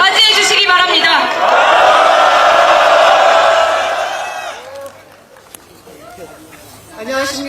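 A crowd at a candlelight rally outside the National Assembly roars with cheers, whoops and applause, loud and dense for several seconds before fading into scattered chatter and voices.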